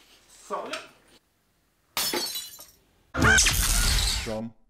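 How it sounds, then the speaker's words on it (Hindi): Glass smashes inside a house during a reality TV show, a loud sharp crash with scattering shards, preceded by two brief bursts of raised voices and commotion. "पॉपी ने आज गली के गुंडों की तरह घर में ग्लास तोड़ा"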